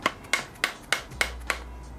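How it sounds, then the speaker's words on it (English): Mallet whacking a BMX bike crank spindle into place, heard as six sharp, close knocks at an even pace, alone with no talk. "Give it a few good whacks with the mallet."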